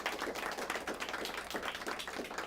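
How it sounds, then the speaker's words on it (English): Applause at a high school academic quiz competition, a steady wash of many people clapping, distant and fairly faint, holding an even level throughout. "Give them a round of applause."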